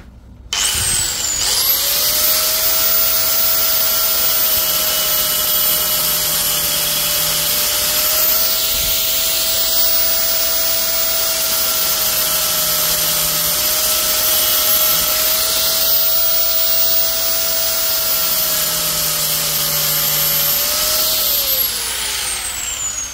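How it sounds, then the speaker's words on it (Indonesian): NRT Pro 9750 angle grinder fitted with a diamond cutting wheel slicing through a leftover concrete paving block, a loud sustained high-pitched whine and grinding roar that starts abruptly and runs steadily for about twenty seconds before spinning down. "Selanjutnya kita akan memotong. Ini sisa dari konblok beton. Saya menggunakan mata diamond cutting wheel."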